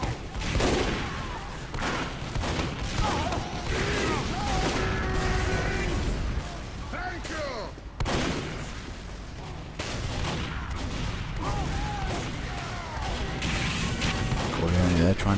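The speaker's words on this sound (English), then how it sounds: "They're just spamming grenades and stuff down to Blue spawn." Grenades are spammed down toward a spawn area in a team-based online shooter game, with repeated explosions and bursts of gunfire layered with game effects, while a commentator talks over the action throughout.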